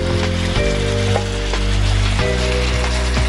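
Curry sizzling in a pan as roasted cumin powder goes in, a loud continuous fry with a low steady hum and occasional soft clinks of stirring, no talking.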